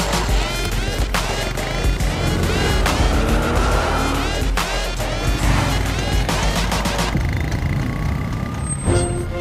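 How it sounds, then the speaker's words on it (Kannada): A car drives over a speed hump on a road, a loud, continuous engine and tire rumble with rattling bumps, then a sharp squeak near the end. "ಈ ಹಂಪ್ ಮೇಲೆ ನನ್ನ ಗಾಡಿ ಹತ್ತಿಸ್ಲೇಬೇಕು"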